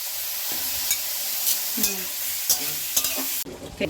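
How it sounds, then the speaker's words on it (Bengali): Steady hissing sizzle of prawns frying in a pan, with repeated scraping stirs against the metal, close and fairly loud, cutting off abruptly near the end. "এই যে চিংড়ি মাছটা এবার ভাজা করে নেবে"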